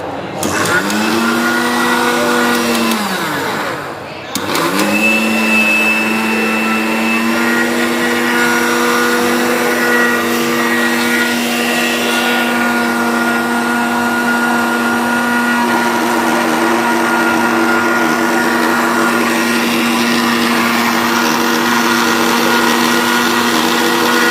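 A mixer grinder grinding spices into a fine paste whines loudly and steadily, cuts out for a moment, then restarts and holds its high, droning hum to the end.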